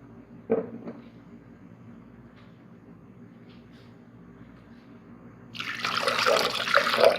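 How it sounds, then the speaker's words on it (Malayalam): Blended gravy pours into a pan for a couple of seconds near the end, a thick liquid splashing and gurgling after a long quiet stretch with a few faint clinks. "അതിലേക്ക് ഈ ഗ്രേവി ഒഴിച്ചു കൊടുക്കാം"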